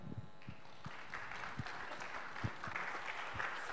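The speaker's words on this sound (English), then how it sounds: "Please give a big applause to Sławek." Audience clapping for a presenter at a software testing conference, a steady wash of applause with individual sharp claps standing out near the microphone.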